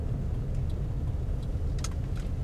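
A car driving along: a soft, steady low engine and road rumble heard from inside the vehicle, with a few faint ticks and light clicks over the smooth drone.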